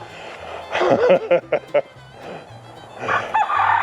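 Several roosters on a small farm with too many roosters crow nearby, rising calls that break into short choppy bursts, then another crow trails off while someone talks.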